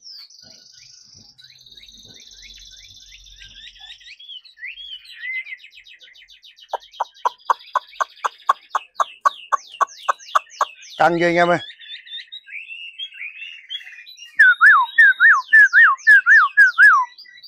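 A young hwamei songbird sings in bursts of rapid, whistled trills and chirps, loud and close, with someone speaking briefly partway through.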